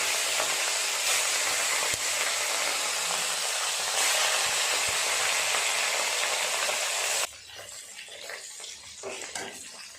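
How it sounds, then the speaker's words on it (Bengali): Katla fish pieces fry in plenty of hot oil, giving a loud, dense sizzle that holds steady, then suddenly drops to a quieter crackle with faint clatter. "তেল খুব ভালোভাবে গরম হয়ে গেছে, মাছগুলো ভেজে নেব"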